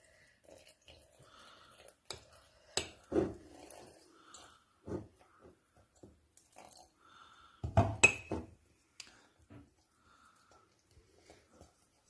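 Sourdough starter and water being stirred in a jar, with sharp clinks of the utensil against glass and scraping, in scattered irregular bursts that are louder around the middle and then faint.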